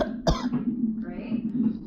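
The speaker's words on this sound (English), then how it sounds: "Can you give me another cough?" A single short, sharp cough from a woman in labour during a hospital cervical exam, one quick burst near the start, with low background hum and faint voices around it.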